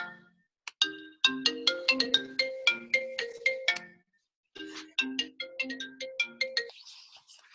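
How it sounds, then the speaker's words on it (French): A mobile phone ringtone plays indoors during a talk about rocks, a bright chiming melody of repeated rising notes in two bursts separated by a short pause, loud and clear with no talking over it. "Ah, il y a un téléphone qui sonne."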